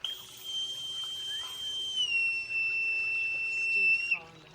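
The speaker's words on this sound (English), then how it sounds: "Yeah, it sounds like a ship's whistle, right? It is. Oh, it is. This is a Navy issue Buzzard's pipe." A Navy issue boatswain's pipe sounds a long, steady, piercing shrill note outdoors at sunset in Palm Springs, held for about four seconds before dropping off, close and loud, with faint voices in the background.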